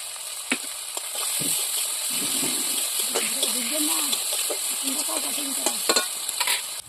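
Water is poured into a sizzling onion-tomato paste with chilli, coriander and cumin. A short splash cuts in, then the stirring and bubbling frying carry on close up, with a voice talking over it.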